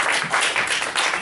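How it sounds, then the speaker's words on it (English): Audience applause for a speaker at a presentation: brief, moderately loud clapping from a room of people, a dense patter of many hands with slight surges, no voices over it. "Give Blue Scott a round of applause."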